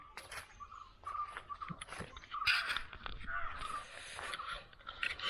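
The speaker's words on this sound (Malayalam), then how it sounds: "ഇടയ്ക്കിടയ്ക്കൊക്കെ ഓരോ പക്ഷികളുടെ സൗണ്ടൊക്കെ കേൾക്കാം കേട്ടോ." Crows and other birds call at the Kumarakom bird sanctuary by Vembanad Lake: scattered, fairly faint caws and chirps over a quiet outdoor background, with no voices.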